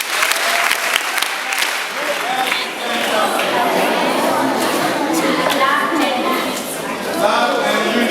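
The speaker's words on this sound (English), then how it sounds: "Can we clap for him?" A crowd claps steadily at an outdoor peace campaign event in Africa, with loud, dense applause running throughout and voices and chatter mixed in.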